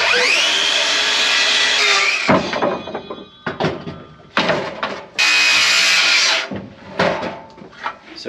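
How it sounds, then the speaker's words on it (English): Bursts of a power drill whirring as it drives screws into lumber for a cabin loft, alternating with clunks, knocks and short pauses, fairly close and loud. "I drill the holes and he wipes them off and sticks screws in them ready for me to put down"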